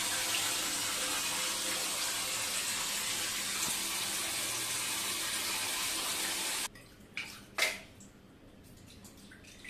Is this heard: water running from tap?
yes